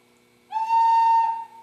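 A single clear, steady flute tone from a Native American flute played with all holes open sounds for about a second, bright and breathy, then stops, leaving a quiet background hum.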